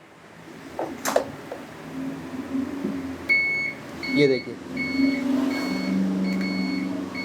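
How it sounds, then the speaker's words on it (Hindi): A brief spoken remark, then a steady series of short, high electronic beeps from an SES Motors Eagle electric scooter's turn indicators, repeating at an even pace over a low background hum. "इस तरह का बीप साउंड आपको मिलेगा जब आप इन इंडिकेटर्स को टर्न ऑन करेंगे।"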